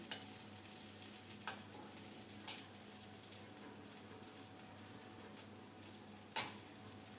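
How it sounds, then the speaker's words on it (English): Butter melting over a low flame in a pan for white sauce pasta gives a soft, steady sizzle with a few sharp clicks and utensil taps, close and quiet, no talk. "Let the butter melt."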